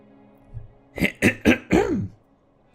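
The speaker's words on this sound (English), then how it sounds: "I apologize for clearing my throat so rudely" A person clears their throat several times in quick succession, close and harsh, ending in a drawn-out rasp.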